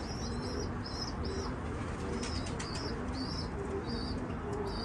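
Domestic pigeons flying back into their loft give repeated soft cooing calls over constant rushing background noise, with faint wing flutters mixed in.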